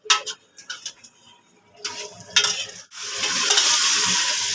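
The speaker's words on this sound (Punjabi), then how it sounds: "ਹੁਣ ਤਕਰੀਬਨ 3-4 ਮਿੰਟ ਨਾ ਅਸੀਂ ਅੱਛੇ ਤਰੀਕੇ ਦੇ ਨਾਲ ਘੀ ਦੇ ਵਿੱਚ ਨਾ ਕੀਮੇ ਨੂੰ ਭੁੰਨਣਾ ਹੈ" Minced meat (keema) frying in ghee in a pot while being stirred, with scraping spoon clatters and ticks at first, then a loud, steady sizzle that swells and holds close up, no talking.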